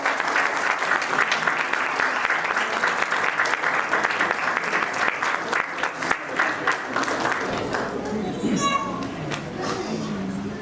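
Steady applause from an audience at a JCI Raipur Sangwari award function in 2023, a continuous dense clapping for several seconds with children's voices and chatter rising near the end.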